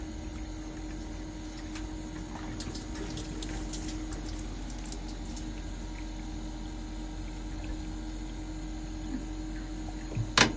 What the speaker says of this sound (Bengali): পানিটা এখন কি আস্তে আস্তে আসতেছে না?